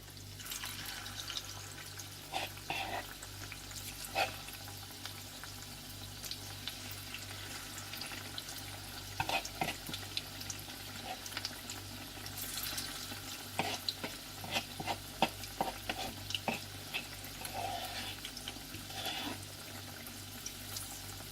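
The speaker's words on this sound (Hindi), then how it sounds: "बाकी भी इसी तरह से फ्राई कर लेंगे।" Chicken mix pakora frying in oil, a steady low sizzle with occasional stirring clinks and splashes, fairly faint and continuous with no talk.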